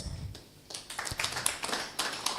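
Scattered clapping from a room of young people at a builders' networking event, a sparse, uneven patter of hands that thickens briefly, fairly close and light, with no talk over it.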